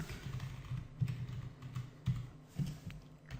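A computer keyboard clatters under quick, uneven bursts of keystrokes, faint and close, with soft taps clustering into short runs and brief pauses between them.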